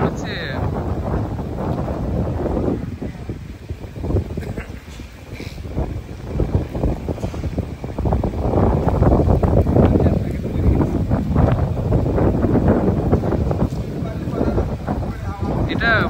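Strong gusts from Cyclone Remal roar continuously around the microphone at 2:40 AM on 27 May 2024, a loud, buffeting rush that swells and eases, with a voice heard at times.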